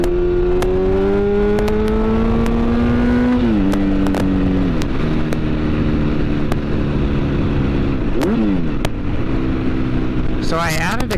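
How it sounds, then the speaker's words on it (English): Motorcycle engine held at high revs in second gear for a wheelie, a loud steady drone that climbs, dips and rises again with several rev changes, under wind noise and someone talking. "we're really just going to have to give it more RPMs than we did in first gear"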